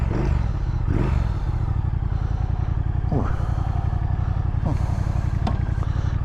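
A 2017 Triumph Thruxton R motorcycle engine runs close by with a loud, throbbing idle. A few quick throttle blips rise above the steady pulse.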